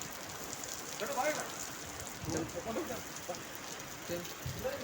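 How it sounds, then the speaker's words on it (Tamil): Heavy Dubai rain spatters steadily on hard surfaces nearby, a constant wash of droplets beneath a man's intermittent speech. "மழை நல்ல பயங்கர மழை வருது"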